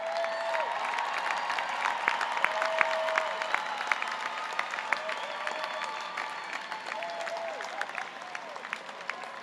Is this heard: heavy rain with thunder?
no